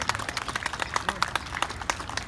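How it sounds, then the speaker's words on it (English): Scattered clapping from an audience at a flag retreat ceremony at Magic Kingdom, Disney World, a steady patter of many hands that sounds somewhat distant and thin, with no voices over it. "Let's give her a big round of applause for helping us out today"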